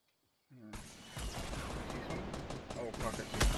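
A Fortnite rocket launcher fires after a brief quiet moment, starting with a sudden loud burst of blast noise that keeps roaring in dense, crackling layers, with a sharper hit near the end.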